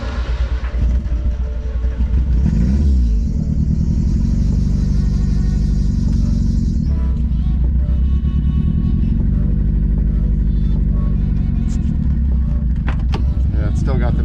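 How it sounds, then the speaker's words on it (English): A drift car engine with a misfire idles loud and close with a heavy, uneven low rumble, with a brief whirring or rev partway through, while people talk over it. "We'll turn it over real quick and see if it still misfires."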